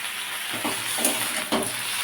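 Radish pieces frying in a pan for a spinach dish, a steady hissing sizzle with soft scraping strokes as they are stirred, close and continuous with no talk.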